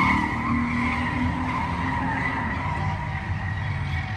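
Cars crashing in a road rage wreck on a street, heard as a loud sustained tire skid and squeal with a roaring engine, continuous and close for several seconds.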